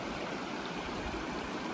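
A mountain stream on the North Fork pass near Wigmore Summit rushes in a dense, continuous broadband wash, loud and close with no voices.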